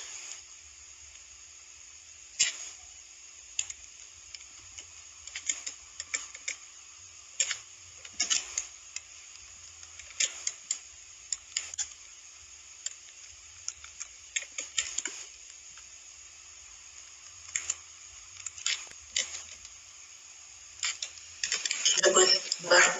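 Clicky computer keyboard typing while entering code for a data visualization task, irregular quiet taps and short bursts of keystrokes, speech heard at moments, with a quicker flurry of typing near the end.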